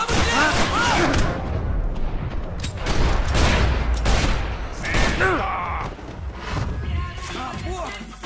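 Gunfire rattles through a Max Payne 3 shootout, bursts of shots and thuds recurring throughout, loud and close, with people shouting over the combat the whole time.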